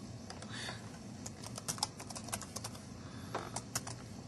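Fingers tap on a computer keyboard in an office, a quiet run of irregular clicks and key presses close by, with a low background hum.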